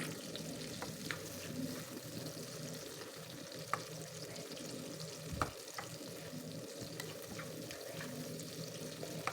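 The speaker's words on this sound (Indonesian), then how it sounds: "Kita goreng sampai tomatnya melembut." Tomatoes fry with shallots, garlic and onion in a pan, a steady close crackling sizzle with occasional stirring scrapes and small pops, with no talking.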